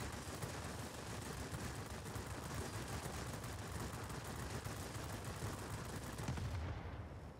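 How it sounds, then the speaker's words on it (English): Anti-aircraft guns fire in a Wargaming video game as a dense, continuous barrage of overlapping shots that roars steadily and loudly for the whole stretch without a break. "AA guns are doing a good job now"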